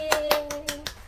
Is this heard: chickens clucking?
no